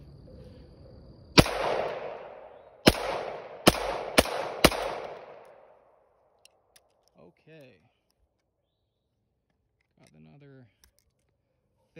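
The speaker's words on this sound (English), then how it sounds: "I'm gonna continue to empty this mag. I've got about, I don't know, 15 or 20 rounds in there." A BCA bufferless 9mm upper fires five sharp, loud shots at uneven intervals, each with a ringing tail, before a short pause and some faint handling clicks and quiet voices as the magazine empties.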